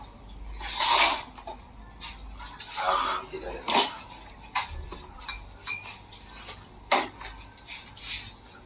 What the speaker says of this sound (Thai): ฉันจะไปหยิบจานกัน